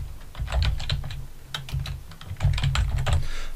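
Steady, rapid typing on a computer keyboard by a teacher entering text into Promethean ActivInspire, close and fairly loud, with dense clattering keystrokes continuing without pause and no talking.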